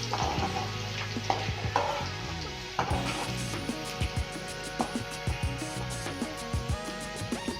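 Garlic frying in oil in a pan for a North Karnataka churumuri snack, a steady low sizzle overlaid with repeated spatula stirs and scraping clicks, close and moderately quiet, with no talking.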